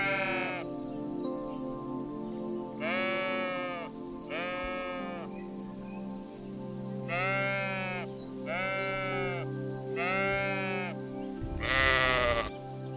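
A sheep bleats five times in wavering, nasal cries spaced a second or two apart, loud and close, ending with a harsher final call over a low steady background hum.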